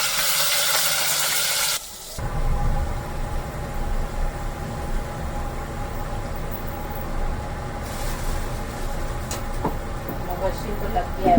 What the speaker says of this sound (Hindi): उसके बाद फिर मैं प्याज को फ्राई कर रही हूँ।